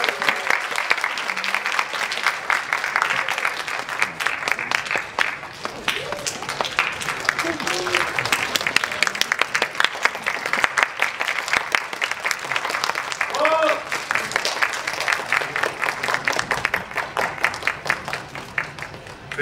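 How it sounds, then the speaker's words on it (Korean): Cinema audience at a Korean film screening and guest talk clapping to welcome the director and cast onto the stage, sustained dense applause with crisp individual claps and a few voices and shuffling underneath. "힘찬 박수로 모시겠습니다."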